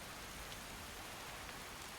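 Driving rain falls steadily in the Skyrim video game, a dense, even hiss of downpour with no breaks.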